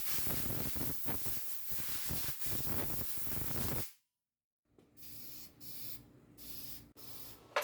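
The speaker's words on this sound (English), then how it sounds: "All the dust is removed with a shot of compressed air." A shot of compressed air blasts dust off a CNC-carved wooden Christmas ornament, a loud sustained hiss for several seconds, then a brief silence and a series of shorter, fainter spurts.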